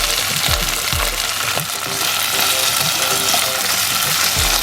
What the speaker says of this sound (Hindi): थोड़ा भुनाएंगे।